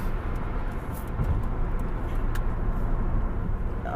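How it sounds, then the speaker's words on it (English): Trucks drive past on a nearby road, a continuous low rumble of traffic with engine drone and tire noise swelling slightly as they go by, heard fairly close and without talk. "there's all these trucks, oh my goodness"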